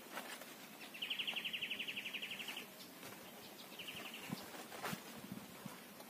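Baby birds chirp from a nest in a corn field while a parent bird swoops nearby, with a rapid, faint cheeping series followed by a shorter burst and scattered soft rustles.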